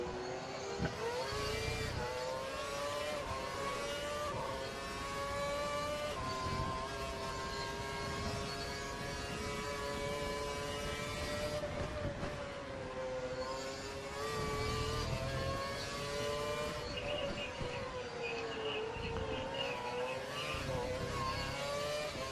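Racing car engines from the F1 2012 video game at the United States Grand Prix, a dense queue of cars whining and revving loudly and continuously with rising and falling pitch throughout.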